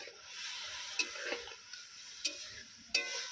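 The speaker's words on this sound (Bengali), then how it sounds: "এবারে আমি দিয়ে দিচ্ছি ফেটিয়ে রাখা টক দই।" Whisked sour yogurt hits a hot spice paste for a pointed gourd curry and is stirred: a steady close sizzle broken by a few sharp clicks and scrapes of the spoon against the pan.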